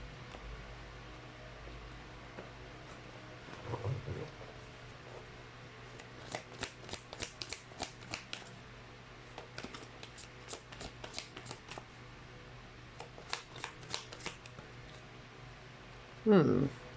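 Tarot cards are shuffled close by, a string of quick papery riffles and soft slaps coming in bursts over a quiet hiss, with a brief voice murmuring near the start and the end.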